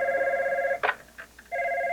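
A telephone rings at a human services office in Detroit, a clear electronic trill that sounds, pauses amid faint background noise, and then rings again.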